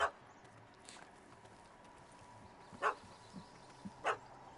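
A puppy barking in the Witcher 3 video game: three short, sharp yaps spaced a second or more apart over a quiet ambient background.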